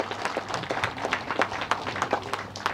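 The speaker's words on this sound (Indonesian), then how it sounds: "Oke. Tepuk tangan yang meriah." Applause from a crowd at a groundbreaking ceremony for a multipurpose church hall, dense steady clapping that carries on throughout at an even level.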